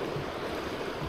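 A waterfall pouring into a river stream near a camping area, a steady dense rush of water with no pauses, loud and close.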